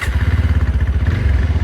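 A motorcycle engine, started with the self-start button with the clutch held and in neutral, runs in a steady, close, rhythmic idle chug.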